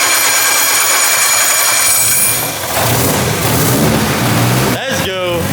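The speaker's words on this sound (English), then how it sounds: "Now we're gonna spin the rear wheels for the first time, which means Bailey's gonna start it, throw it in gear." A rear-wheel-drive-converted Mitsubishi Lancer, running without a radiator, roars loudly up close as its rear wheels spin in gear, with a broad rumbling drone and voices shouting near the end.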